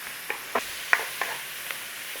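A large onion sizzles in a hot pan while a utensil scrapes through it in about five quick, uneven strokes over a constant frying hiss.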